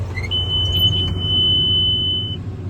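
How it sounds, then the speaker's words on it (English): A straw baler's alarm sounds a steady, continuous high-pitched electronic tone for about two seconds over the low rumble of the tractor and baler working a field of wheat straw. "if it gets to 70 inch, the alarm goes off"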